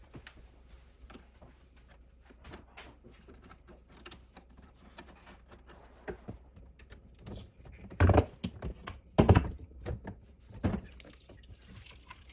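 Water from a disconnected dishwasher pipe drips and splashes sporadically, growing into a few louder bursts of falling water near the end before tapering off.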